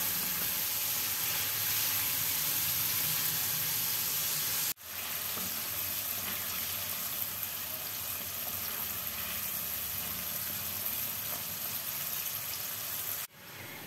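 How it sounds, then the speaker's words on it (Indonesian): Chicken pieces frying in hot oil, a steady, dense sizzle heard up close, briefly cut by two short breaks in the sound. "saya goreng 3 kali gitu, 3 kali penggorengan"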